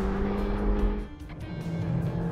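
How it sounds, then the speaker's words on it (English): Hyundai i30 N hot hatch with six-speed manual driven hard on a track, its exhaust rasping loudly through rising revs, a brief dip around a gear change, then pulling again close by. "The i30N has by far the best low and mid-range torque delivery, and easily the best exhaust note here."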